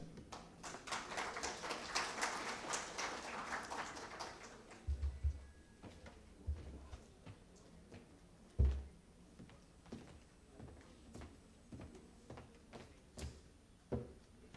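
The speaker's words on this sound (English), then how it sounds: "Can we have another big round of applause?" An audience applauds after a talk on digital inclusion and diversity. The clapping is dense but fairly faint for about four seconds, then thins to scattered claps and soft knocks in a quiet room.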